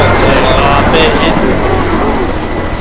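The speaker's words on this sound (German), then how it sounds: "Dieser verdammte Heli ist aber auch so scheiße laut" Helicopter in the zombie shooter Left 4 Dead 2, on the Dead Center level: a loud, constant rotor-and-engine drone with a low throb underneath, while a voice talks over it.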